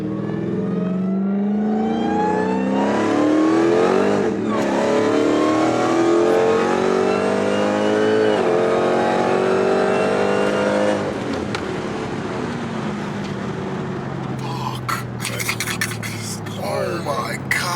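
Dodge SRT Hellcat accelerating hard on a road in Mexico, its loud engine revving up in long rising pulls through several gears, with a brief lift around the middle and a rougher, gusty roar near the end, heard from inside the car.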